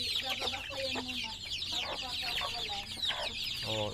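Chickens on a poultry farm cluck steadily and loudly at close range, with overlapping calls and a constant background hum of the flock.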